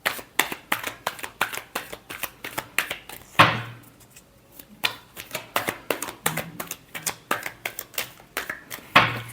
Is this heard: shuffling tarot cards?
yes